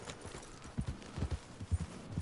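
A horse's hooves clip-clop at a walking pace, producing a rhythmic series of soft, dull thuds at moderate distance against a quiet outdoor backdrop.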